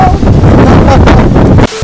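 Strong outdoor wind at a resort beside an infinity pool buffets the microphone with loud, continuous rumbling gusts that cut out abruptly near the end.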